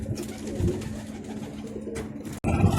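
Low, throaty pigeon coos repeat steadily through the clip, fairly close, with a brief dropout near the end before the cooing resumes.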